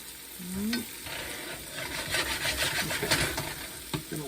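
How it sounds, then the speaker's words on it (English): Chicken Marsala sauce simmers in a pan while a spoon stirs and scrapes through it, giving a bubbling sizzle with rhythmic rasping strokes and a couple of squeaky utensil sweeps. "Gonna let that simmer."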